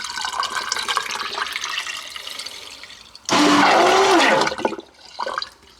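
Water flushes down the pipe of an electric boat toilet. Quiet watery rustling gives way to a sudden loud, gurgling rush that lasts over a second, then stops, followed by a brief softer splash.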